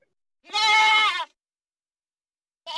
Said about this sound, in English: Oh, no goat noise, Matt.